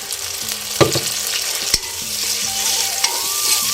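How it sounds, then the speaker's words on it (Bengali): A spice mixture is stir-fried with fried onions in a pan, producing a constant sizzle broken by sharp spatula knocks and scrapes, close up and with no one speaking. "মশলাটাকে ভালো করে কষিয়ে নেব।"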